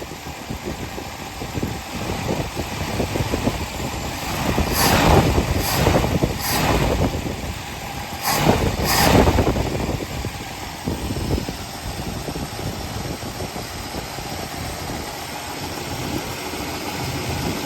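Mercury Zephyr car engine idling steadily up close, a rough mid-pitched rumble with a couple of louder bursts partway through before settling back to an even idle.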